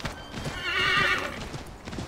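A horse in the Assassin's Creed 3 video game gives a loud whinny over steady hoof clip-clops, the neigh swelling in the middle of the short burst with no talk.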